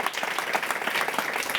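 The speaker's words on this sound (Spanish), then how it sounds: "a Ona Carbonell, por favor un fuerte aplauso para ella." Audience applause at a women's leadership debate event, a dense, steady burst of many hands clapping, fairly close and loud, filling the whole short stretch.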